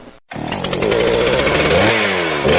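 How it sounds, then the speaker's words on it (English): A Stihl MS-171 chainsaw starts up and runs loudly and close, its engine revving with a steady buzzing roar and shifting pitch in a radio advertisement. "Do you want a great sounding chainsaw like that?"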